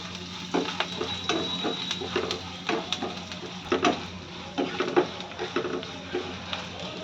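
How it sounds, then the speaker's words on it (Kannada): Whole spices (cloves, cumin, peppercorns and fennel) crackle and sizzle in hot oil for an egg curry, a steady close frying hiss broken by scattered sharp pops and stirring clinks, with no talk. "ಲವಂಗ ಜೀರಿಗೆ ಮೆಣಸು ಇದನ್ನ ಹಾಕ್ತಾ ಇದ್ದೀನಿ ಸೋಂಪು ಇದೆಲ್ಲ ಹಾಕಿ ಒಂದೇ ನಿಮಿಷ ಸಾಕು ಸ್ವಲ್ಪ ಚಟಪಟ ಅನ್ನೋವರೆಗೂ"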